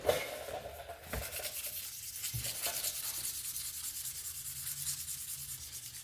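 Sandpaper of 220 and 1,000 grit is rubbed by hand over a Kawasaki ZX14 motorcycle engine part in rapid, even back-and-forth strokes, a close raspy scratching that continues steadily throughout with no speech.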